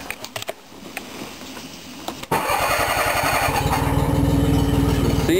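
A small engine on a homemade project vehicle such as a go-kart or boat cranks, catches abruptly and then runs loud and steady with a buzzy, slightly uneven idle, close to the listener.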